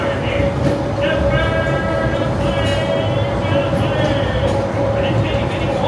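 Disneyland's steam train rolls along the Grand Circle Tour with a steady mechanical rumble and faint rhythmic clatter, while a recorded narration voice talks continuously over it.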